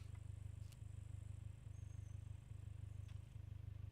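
In the survival video game SCUM, a vehicle engine idles with a quiet, steady low hum and a regular throbbing pulse, plus a few faint ticks over the drone.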